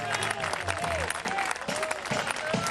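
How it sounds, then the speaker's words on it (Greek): Applause from a crowd at an event honouring a teacher, a dense clapping that holds steady throughout at close range, with voices mixed in. "Ένα χειροκρότημα για τον κύριο Ξανθόπουλο"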